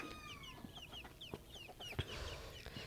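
A country hen with her chicks on a small farm, soft repeated clucks and high chirping peeps close by, mixed with a few scuffling thumps.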